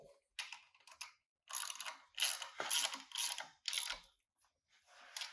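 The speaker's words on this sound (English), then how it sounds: "go ahead and tighten down the clamping bolts in the template" Clamping bolts on a template fixed to a bolster plate are tightened with a ratchet, giving a series of close, crisp clicking bursts separated by brief pauses.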